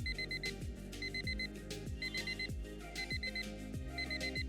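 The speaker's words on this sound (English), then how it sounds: "I have a series of alarms in my phone that goes off." A phone alarm rings out in a steady, repeating electronic pattern, with bright beeping tones cycling about once a second over a low pulsing rhythm, sustained throughout at moderate volume.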